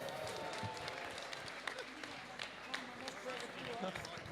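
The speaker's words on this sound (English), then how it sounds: "Give it a round of applause." Applause and cheering from a crowd at a beetleweight robot combat tournament in Bristol, steady clapping running throughout with a presenter's voice talking over it.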